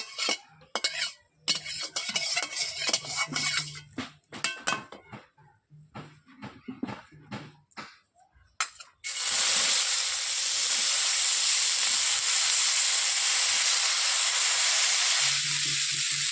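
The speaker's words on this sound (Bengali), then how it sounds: "কড়াইতে আমি প্রথমে হালকা করে তেল দিয়ে দিচ্ছি, সবজিগুলোকে ভেজে নেব" Vegetables hit hot oil in a kadai with a sudden loud, sustained sizzle and hiss after a stretch of clattering utensils and stirring; the frying roar continues steadily to the end.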